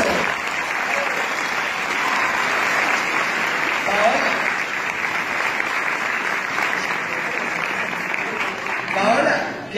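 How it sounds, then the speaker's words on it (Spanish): A room full of people at the Bogotá en 100 palabras award ceremony breaks into sustained applause, a loud, dense wash of clapping lasting nearly ten seconds, with faint voices mixed underneath. "Bueno, un aplauso."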